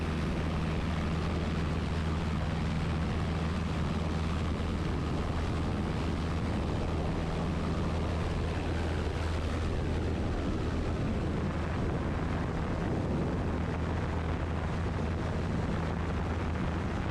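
A small propeller airplane climbs out just after takeoff, its steady engine drone and broadband wind rush continuous and loud throughout, with no talk.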